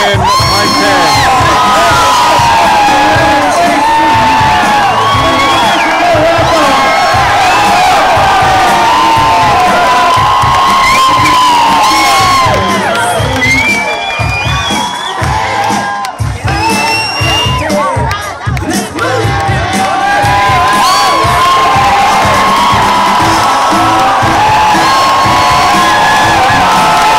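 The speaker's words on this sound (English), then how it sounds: "crowd roaring" A large political rally crowd in Las Cruces, New Mexico roars, cheers and whoops continuously, loud and dense, with shouts rising throughout and a brief dip in the middle.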